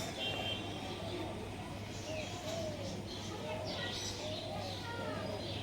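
Soft pigeon coos from Punjabi Malbai pigeons come and go over steady background hum, faint and fairly close, with no speech.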